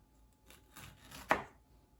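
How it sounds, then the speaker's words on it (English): A knife slices through a pineapple on a cutting board, a few soft scraping strokes leading to one firm, crisp cut near the end, close and quiet with no talking. "Next, you want to cut the core of the pineapple so that you make a fan shape."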